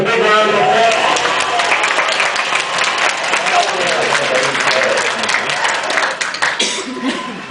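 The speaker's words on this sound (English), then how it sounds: "let's give a big round of applause" A crowd breaks into a big round of applause at a live interview event with Donald Driver and James Jones, clapping and cheering loudly and continuously with some laughter and chatter mixed in.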